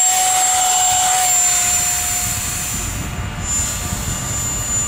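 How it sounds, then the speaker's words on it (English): An FF-Viper RC jet with an electric ducted fan whines loudly and steadily as it climbs after takeoff, a constant high-pitched fan tone over a broad rushing roar that eases slightly midway and holds, with no talking. "I'm actually pretty impressed with this plane with the amount of power it has. It pretty much climbs right out."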